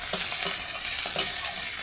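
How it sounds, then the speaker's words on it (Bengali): Spices fry in a pan for a fish curry, giving a steady bright sizzle with soft scraping stirs and a few louder spatters, no voices. "মশলাটা ভাজিয়ে নিয়ে তারপরে জল দেবো।"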